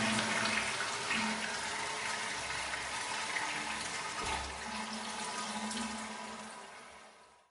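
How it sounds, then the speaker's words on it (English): A toilet flushes loudly, with rushing water swelling twice before draining and trailing off into quieter refilling at the end, no voices. "we should have that same toilet flushing sound"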